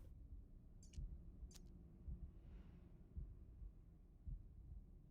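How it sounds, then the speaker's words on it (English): A video game plays a faint, steady heartbeat: dull low thumps about once a second under a quiet background, with no speech. "Why do I hear a heartbeat?"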